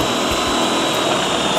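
A number 1 step bit drills into aluminum on a power drill, a loud, continuous grinding whir with brief bumps of load, heard up close and alone.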